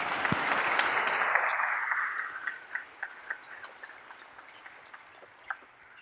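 Applause at a Sikh heritage talk celebrating Canada 150 swells briefly, then thins out after about two seconds into a few scattered individual claps.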